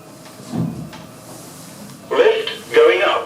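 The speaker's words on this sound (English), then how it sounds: "Doors closing." Sliding doors of an Orona lift closing in a dim service area of a mixed-use building, two short rushing slides in quick succession near the end, preceded by a brief low thump and faint background hum.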